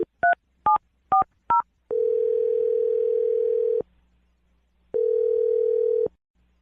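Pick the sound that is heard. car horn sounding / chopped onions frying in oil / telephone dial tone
telephone dial tone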